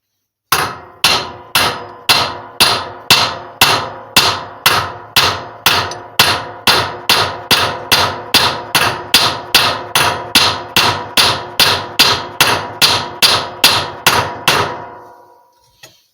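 A hammer strikes the crankshaft nut of a Tecumseh TVS90 engine from a 1984 Toro mower about thirty times in a steady, evenly spaced rhythm. The blows ring out loud and close, with no talk, until the hits stop near the end.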